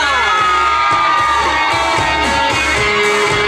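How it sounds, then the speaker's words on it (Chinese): Concert crowd at an outdoor Mid-Autumn music festival in a stadium in Xinzhuang, screaming and cheering loudly for a singer, with sustained shrieks and whoops from many fans. "尖叫声在哪里啊？"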